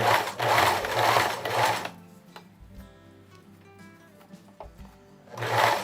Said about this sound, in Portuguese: Costurei a parte de baixo também, rebati a parte de baixo